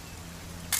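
In the video game What Remains of Edith Finch, a camera shutter clicks once near the end, a short bright snap after a quiet stretch of low background hum.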